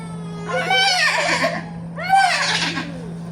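A voice imitates a horse neigh twice, each a shrill, wavering whinny of about a second, close and loud, with a short pause between them.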